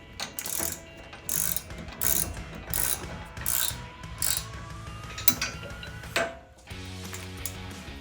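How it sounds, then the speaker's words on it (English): A ratchet tightens 18mm rear brake caliper bolts on a 2015-2023 Mustang EcoBoost, giving close, repeated bursts of clicking pawl strokes with brief pauses between swings. "I want to tighten those 18mm bolts."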